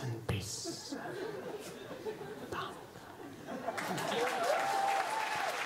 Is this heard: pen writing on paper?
no